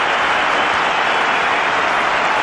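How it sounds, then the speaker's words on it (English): A cricket stadium crowd applauds a batsman reaching fifty in an India versus Pakistan match, a steady dense wash of clapping and cheering held at a loud, even level with no break. "The crowds are up there appreciating his efforts."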